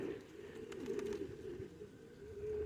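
A pigeon at a pigeon show coos softly in a low, throaty, sustained warble, quiet and slightly distant against background room noise.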